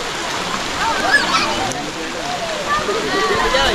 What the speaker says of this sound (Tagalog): Yung running water.